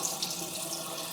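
Water pours steadily out of a sprouting jar, a close continuous trickling splash with no voices.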